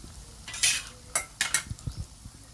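Spoon stirring ground coriander, fenugreek and mustard powder into hot oil for chicken pachadi, with scattered scraping clinks and short bright bursts of sizzle, close and fairly quiet, no talking.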